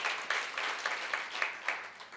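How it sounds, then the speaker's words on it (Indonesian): A church congregation claps in a faint, roomy, distant patter with a few louder regular beats, as though keeping rhythm, and no talk is heard over it. "Beri tepuk tangan dulu bagi Tuhan Yesus."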